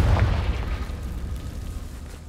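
A Confringo blast spell exploding in a Harry Potter video game, a single loud booming burst that rumbles and fades away over about two seconds.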